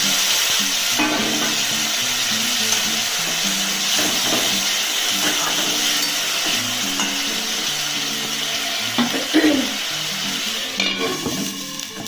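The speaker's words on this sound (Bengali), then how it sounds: "এবারে আমি মশলা ধোয়া জলটা এই মাছটার মধ্যে দিয়ে দেবো যাতে মাছটা একটু ভালোভাবে সেদ্ধ হয়" Spice-rinsing water poured over fish frying in oil, producing a loud, continuous close sizzle and hiss with occasional bubbling crackles and a few clinks of utensils.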